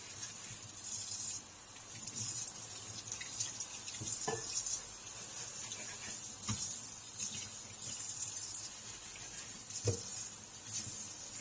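Water runs faintly and steadily while a root-bound plant is washed during repotting, a soft continuous hiss broken by occasional small splashes and knocks.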